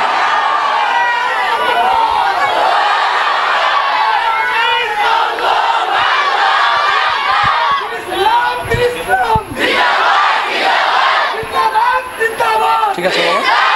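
A large crowd at a religious gathering roars the takbir chant, a dense, loud wall of many voices shouting in unison for several seconds, then breaking into ragged, uneven bursts toward the end.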